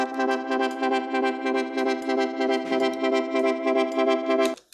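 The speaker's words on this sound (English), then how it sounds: "then I have delay and reverb like this" A bright, sustained Serum synth tone pulsing in quick repeated notes, washed in echoing delay and reverb, playing steadily alone before cutting off near the end.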